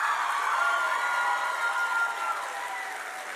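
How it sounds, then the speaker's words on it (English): Audience applause for Candace Owens at a youth summit in Texas, a steady dense wash of many hands clapping that holds throughout and fades slightly toward the end, with faint crowd noise mixed in. "Everybody give a round of applause for Candace Owens."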